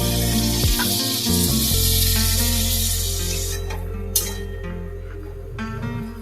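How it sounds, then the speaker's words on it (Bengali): Water poured into a hot pan of potato and poppy seed mix sets off a loud, dense hiss that slowly fades to a softer sizzle, with a light clink of a utensil partway through. "এখন জল দিয়ে দিচ্ছি।"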